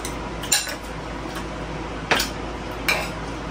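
Plates and pans clatter in a few sharp, separate bursts while dishes are washed, three brief clinks spaced about a second apart over a steady low background hum.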